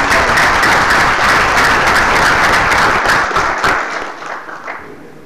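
An audience at a book presentation in Tenancingo breaks into loud, dense applause for a doctor, sustained clapping that fills the room and then tapers off near the end.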